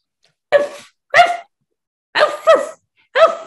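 A person imitates a puppy barking, giving five short, sharp yaps in quick bursts, close and loud, separated by silent gaps.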